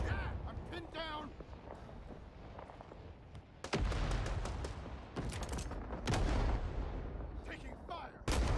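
Gunfire and artillery in the video game Rising Storm 2 Vietnam: repeated sharp shots and heavy booming blasts ring out through a forest battle, loud and continuous, with a voice talking over the action.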